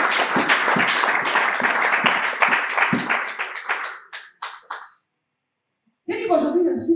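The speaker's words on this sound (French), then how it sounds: "Acclamons le Seigneur." A church congregation claps together in dense applause for several seconds, thinning to a few scattered claps before silence, then a voice speaks.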